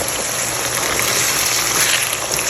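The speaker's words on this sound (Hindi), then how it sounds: "थोड़ा सा मैं इसमें पानी ऐड करूँगी।" Water added to browned, tender qeema sizzling in a hot pan gives a loud, steady, broadband hiss and gush lasting the whole moment, with no voices.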